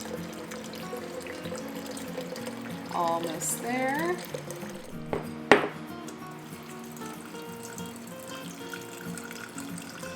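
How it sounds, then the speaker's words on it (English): Liquid is poured steadily into a quart glass jar to make homemade vanilla extract with Tahitian vanilla, a continuous close trickle running beneath a speaking voice. "So again, pouring it up to the 16-ounce mark, which is 2 cups."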